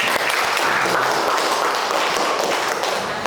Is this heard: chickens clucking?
no